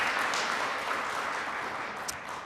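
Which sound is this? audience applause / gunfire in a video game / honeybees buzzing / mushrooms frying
audience applause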